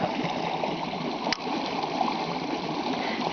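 Stream water runs beneath ice through snow with a steady near gurgling flow, broken by one short splash or knock partway through; no one speaks.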